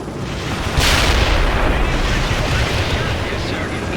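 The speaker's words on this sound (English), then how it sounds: "Fire all guns, now!" Artillery guns firing in the video game World in Conflict, a heavy booming blast that erupts partway in and rolls into a sustained, loud rumble, with a voice faintly mixed in.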